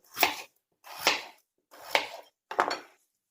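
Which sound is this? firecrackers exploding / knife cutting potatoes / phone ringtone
knife cutting potatoes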